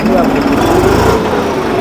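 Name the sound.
New Holland 3630 TX tractor engine running in high first gear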